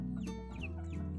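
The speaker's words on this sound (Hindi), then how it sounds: "ये पहाड़ी मुर्गियों की ब्रीड है ना" Himalayan hill chickens, a nearly vanished breed, cluck continuously at close range in a pen, with a steady, busy murmur of hen calls and no talk.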